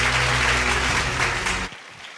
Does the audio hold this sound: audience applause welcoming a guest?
yes